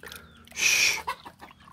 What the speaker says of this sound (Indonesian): wah ada ayam teman-teman wah ayamnya mau ganggu ndak itu teman-teman